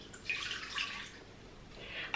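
Water poured into the bowl of a Krups Prep and Cook kitchen machine fitted with its kneading blade, a soft splashing trickle that swells in two bursts and plays close by with no talk.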